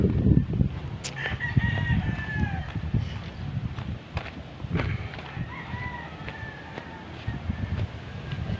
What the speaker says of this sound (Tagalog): May manok tayo isa